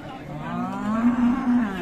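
A Friesian cow at a cattle market in Raniganj, Dinajpur, lets out a single, loud, drawn-out moo close by, rising slightly in pitch before fading.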